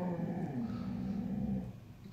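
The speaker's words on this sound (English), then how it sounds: "That's my dog. She wants to party." A pet dog growls steadily and low, close by, for about two seconds before tapering off, with no talking over it.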